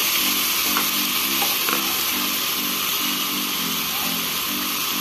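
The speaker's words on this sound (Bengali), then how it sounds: "পেঁয়াজ, আদা, রসুন এবং জিরে বাটার মশলাটা ভালো করে কষিয়ে নিয়েছি" A spice paste of ground onion, ginger, garlic and cumin fries in oil, sizzling loudly and steadily close by, with occasional stirring scrapes.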